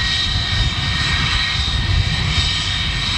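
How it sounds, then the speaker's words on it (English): An EasyJet Airbus A320 taxiing at Manchester Airport gives a steady, loud jet engine roar with a broad whine, continuous throughout with no talk. "I've got an EasyJet 320 just making its way behind up behind this"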